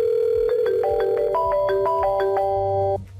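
A softphone test call to a 3CX phone system, with a series of electronic telephone tones stepping up in pitch in short rhythmic beeps, sustained together for about three seconds before cutting off abruptly.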